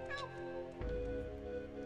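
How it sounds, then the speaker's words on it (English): A short cat meow rises over a busy Banjo-Tooie game soundtrack of steady music and effects, then a low rumble joins in. "I heard a cat."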